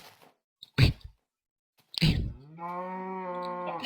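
A cow in Minecraft lets out a drawn-out, tonal moo near the end, preceded by two short thumping game sounds, loud and close with silence between.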